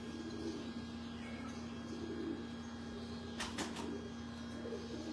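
Pigeons with grey beaks coo softly on a Lahore rooftop, a low steady hum of birds under constant background noise with a few faint chirps.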